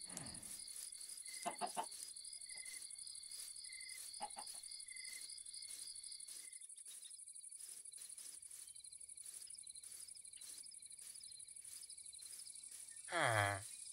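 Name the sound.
chickens clucking in the video game Minecraft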